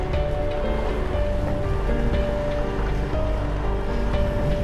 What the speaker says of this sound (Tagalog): Bilis nung agos oh.